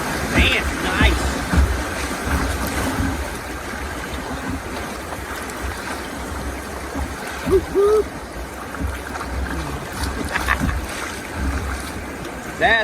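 Rushing river water and splashing around a boat running a wave train of rapids on the Catawba River, steady broadband wash with louder splashes and excited voices shouting over it.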